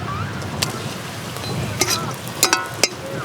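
Two dried red chillies and a bay leaf hit hot mustard oil in a kadai, making a low, steady crackle punctuated by a few sharp spitting pops.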